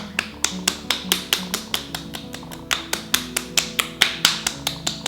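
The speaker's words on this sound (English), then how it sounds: "I like to finish my routine with a little bit of gentle clapping on my face" Fingertips lightly pat the skin of the face in a steady, quick rhythm of soft, close taps, about three or four per second, with no talking.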